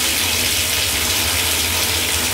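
Fully hot water gushing from a GROHE Grohtherm 1000 New thermostatic mixer, a loud, steady, close rushing stream with no talk.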